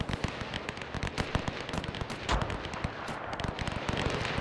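Rapid machine gun fire in the WW1 battle game Between Empires, a continuous crackle of dense, overlapping shots with no pauses, heard alone and loud throughout.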